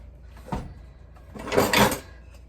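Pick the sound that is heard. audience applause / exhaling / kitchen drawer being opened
kitchen drawer being opened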